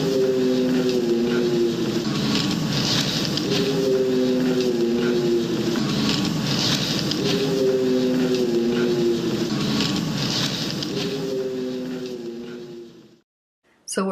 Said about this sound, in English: I also have some audio footage of supposed sound vocalization from a Dogman